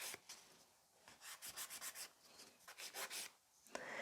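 A nail file works a sculpted nail into a coffin shape: quick, dry rasping strokes in uneven bursts, close and fairly soft, with no voices.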